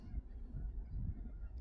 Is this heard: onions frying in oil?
no